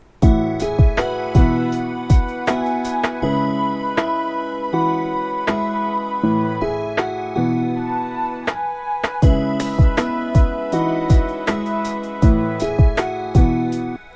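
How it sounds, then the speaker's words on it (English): A mellow lo-fi beat with piano chords, punchy drum hits and soft sustained horn and flute tones, steady rhythm, played alone with no talking. "I'll just play the piano, the drums, French horns, and flute"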